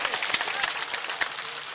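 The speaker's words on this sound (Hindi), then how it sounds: "दोनों तालियों से हाथ बजा करके हार्दिक अभिनंदन करें" A crowd at an outdoor political rally applauds, a dense wash of clapping with some louder individual claps standing out, steady and fairly loud across the whole stretch.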